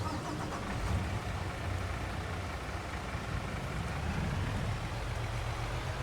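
A big truck's engine in the video game Farming Simulator, a dense continuous engine rumble with steady broadband noise, loud and close throughout, with no talking.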